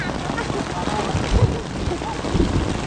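Steady heavy rain pours outdoors during a thunderstorm-hit rescue search, a continuous broadband hiss with low rumbling underneath, and voices speak faintly beneath it.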